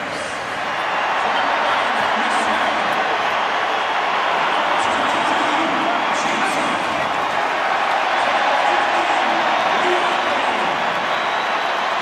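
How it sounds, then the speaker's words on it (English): A packed rugby stadium at Wales vs France in the 2014 Six Nations rises into sustained applause and crowd roar, a steady dense wash across the whole stretch with commentary voices running beneath. "Such applause for the outgoing Adam Jones"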